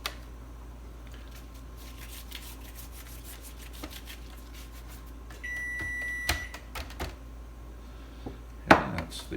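An oven chimes to signal it has finished preheating for baklava, a short high electronic tone near the middle followed by a few sharp kitchen clatters, all faint and indoors.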